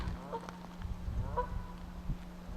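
Geese honking outdoors on a spring walk, a few faint, distant honks spaced across a couple of seconds over steady low background hum.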